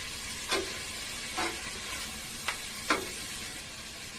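Onions sizzle with a pinch of salt in a pan for vegetable biryani, a soft steady frying hiss broken by a few quick stirring scrapes.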